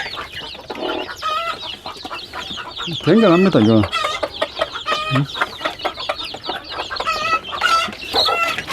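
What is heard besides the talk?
chickens clucking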